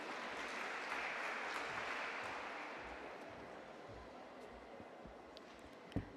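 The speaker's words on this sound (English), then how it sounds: "A big round of applause for Ms. Bhavani, ma'am, once again." An audience applauds at a college valedictory ceremony, a dense wash of many hands clapping that slowly thins and fades over several seconds, with no voices audible over it.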